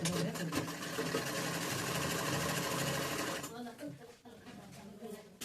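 A sewing machine stitches a sleeve onto a chudi top, running in a steady, close mechanical whir for about three and a half seconds before stopping, followed by quieter handling sounds.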